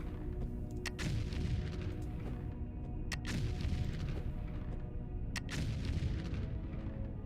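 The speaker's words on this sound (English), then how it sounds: "All the explosions." Repeated heavy explosions in the video game Foundry, booming blasts every second or two over a constant loud rumbling game background, with sharp cracks near 1, 3 and 5.5 seconds.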